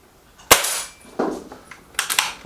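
A Milbro Guardian air gun fires Excite pellets: one sharp, loud crack at the start, then further clacks and metallic clicks as the gun is quickly reloaded.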